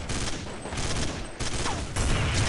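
Rapid gunfire in the video game Counter-Strike: Nexon Studio, a dense fusillade of shots throughout with short gaps, loud and close.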